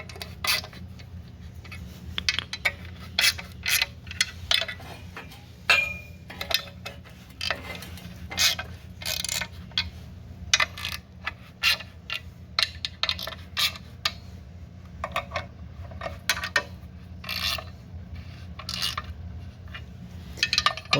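Bolts on a Nissan Hardbody D21 clutch assembly being snugged with a ratchet, giving repeated metallic clicks and ticks in uneven bursts over a steady low background hum, fairly close.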